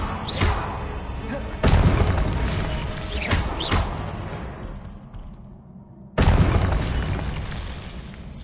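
Confringo blasting curses explode in a Harry Potter video game, a series of booming blasts, with loud onsets near 1.7 and 6.2 seconds, each decaying into rumbling debris amid dense game noise.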